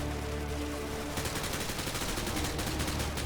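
Rapid automatic gunfire in Call of Duty Modern Warfare 2 breaks in after about a second of steady game background and continues as a dense, loud volley to the end.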